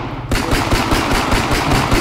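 Rapid automatic gunfire in Minecraft, a dense, loud stream of shots in steady quick rhythm that begins abruptly and continues without pause.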